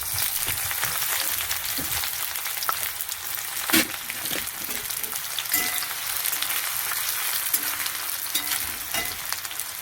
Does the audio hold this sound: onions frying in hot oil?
yes